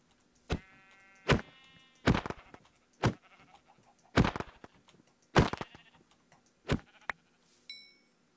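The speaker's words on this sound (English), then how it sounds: "I need a third sheep." Sheep in the Minecraft video game bleat in a string of short, sharp calls, about eight separate bleats spaced a second or so apart, with a soft thunk among them over near silence.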